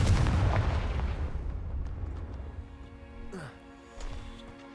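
Explosive spell blasts in the Hogwarts Legacy video game, a heavy rumbling boom at the start that slowly decays, followed by fainter magical whooshes and a smaller burst, all under game music.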